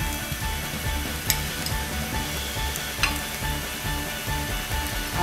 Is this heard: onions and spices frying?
yes